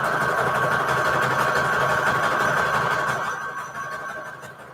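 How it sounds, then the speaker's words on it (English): A sewing machine runs a continuous zigzag stitch around the edge of a fabric junk journal page, a steady close mechanical whir that winds down and fades near the end. "just going to a zigzag stitch, and I'm literally just going to sew all the way around"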